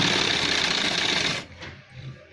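A sewing machine stitches a shirt sleeve seam in a steady, close, continuous run for about a second and a half, then stops, leaving faint handling sounds.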